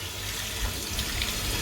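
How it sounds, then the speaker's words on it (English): A tap runs steadily into a sink, filling it with lukewarm water, giving a loud, continuous hiss and splash with no talking. "I'm going to mix the water, get the sink full."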